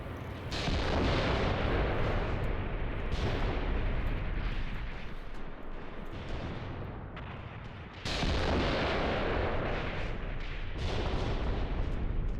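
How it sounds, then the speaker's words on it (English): Artillery shells pound continuously in the Graviteam Tactics war game, heavy overlapping booms and blasts rolling one after another with barely a pause, loud and dense throughout, briefly easing before a fresh barrage. "Still got artillery to come in, still a few rounds, yep."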